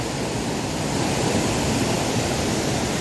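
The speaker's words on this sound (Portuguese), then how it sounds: "É cachoeira bonita, né?" A waterfall at Cachoeira do Zola, a fall that never runs dry, gives off a steady, dense roar of rushing water that stays loud and even throughout, with no voices.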